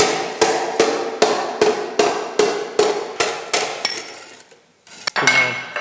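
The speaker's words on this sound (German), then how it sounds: "Deswegen habe ich hier den Hammer mit der großen Fläche, der das schön planiert, hier innen drinne." A broad-faced hammer flattens the inside of a hand-forged iron pan with about a dozen sharp, evenly spaced ringing metallic blows, then a brief pause and a final scraping clank, with no talking.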